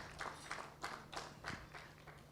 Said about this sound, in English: ladies and gentlemen, a round of applause to the Honorable CS